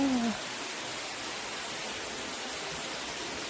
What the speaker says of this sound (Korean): 폭포가 있네.